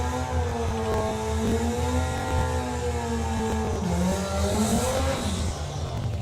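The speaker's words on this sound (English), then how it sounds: "Rob Smallworth there in the Dirty Dog 55 Chevy." A 1955 Chevy drag race car at a doorslammer event roars loudly and steadily nearby, its engine tone rising and wavering with revs under a continuous harsh exhaust rumble.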